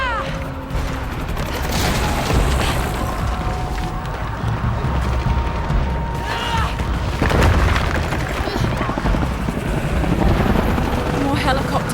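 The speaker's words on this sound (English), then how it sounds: "More helicopters." Helicopters in the Shadow of the Tomb Raider video game drone steadily with a loud, continuous rotor roar. Booms and bursts of gunfire punctuate it while voices talk over the radio throughout.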